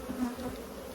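Honeybees buzz around a hive in a low, steady drone, fairly quiet, several insects close together with no voices.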